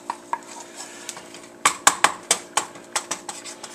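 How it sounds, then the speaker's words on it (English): A whisk clinks against a pan while stirring a butter and flour roux, a series of sharp metallic taps and scrapes in an irregular rhythm, close and fairly loud, starting after a soft opening. "Just whisk it around for a few minutes"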